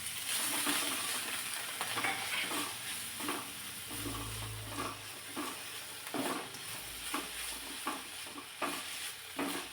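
Finely chopped cauliflower and green peas being sautéed in a pan, with a steady sizzle and repeated scraping stirs of a spoon at a regular rhythm, close and moderately loud.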